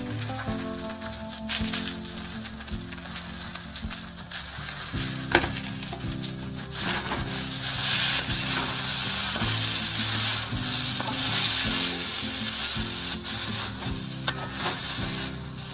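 Tender young drumstick (moringa) stalks sizzle steadily in hot oil in a home kitchen pan, with occasional stirring scrapes and a bright, continuous frying hiss that grows louder midway and carries no talk.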